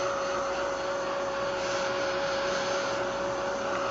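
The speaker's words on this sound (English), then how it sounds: "I'm going to heat set this just to make sure everything is dry." Steady, close whir of a heat tool blowing over a scrapbook layout to dry it, a constant airy hum with a thin tonal whine, unbroken and with no voices.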